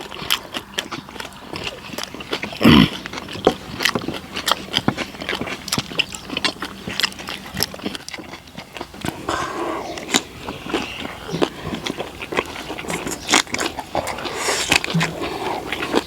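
Close, continuous chewing of grilled pork belly with spicy kimchi, with wet smacking bites and clicks throughout and a few brief spoken remarks in between.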